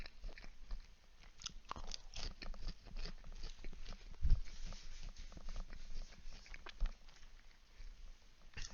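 Someone bites into a crispy plain McDonald's chicken nugget, then chews with soft crunchy bites close to the mic, one sharper crunch standing out among steady mastication sounds and no talking.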